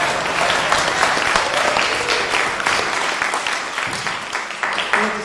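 An audience bursts into loud, sustained applause, dense clapping that holds steady and then thins slightly toward the end.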